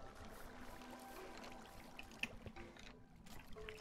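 Water flows through a water trap built near a skeleton spawner in a block-building game, a quiet steady trickle and gurgle with small splashes, faint and continuous.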